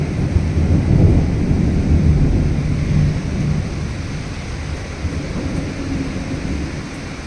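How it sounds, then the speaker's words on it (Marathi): Heavy late-March rain pours steadily with deep rolling thunder and lightning, strongest at first and then easing into a sustained downpour roar. "एकदम जोरात पाऊस चालू आहे आणि विजा पण कडकडत आहे"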